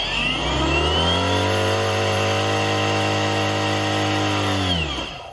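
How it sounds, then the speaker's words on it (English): Fanttik cordless pressure washer pump hums steadily and loudly close by, a smooth motor drone holding one pitch for several seconds after a quick spin-up, then winding down as it stops. "Once the unit builds up the pressure, it does stop the pump, so you don't hear that the whole time"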